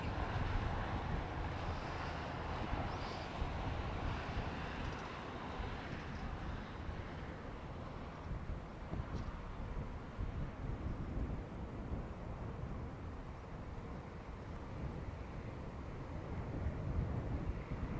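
An Airbus airliner during a rejected takeoff check on a factory runway, a distant, steady engine roar and rumble with wind noise, continuous and fairly faint throughout.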